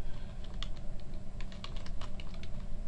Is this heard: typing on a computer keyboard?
yes